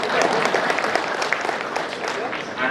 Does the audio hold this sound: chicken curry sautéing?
no